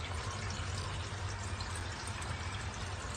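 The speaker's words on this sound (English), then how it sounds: "You can hear the water run very fast." Water drains fast down an unclogged kitchen sink, a steady rushing, gurgling flow that stays even from start to finish, close and moderately quiet with no voices.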